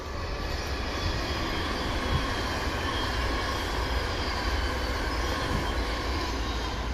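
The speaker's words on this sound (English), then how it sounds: "I'll just let this Virgin train go past." A Virgin train passes by close at hand, a loud continuous roar and rumble of wheels on rails holding steady throughout, with no voices.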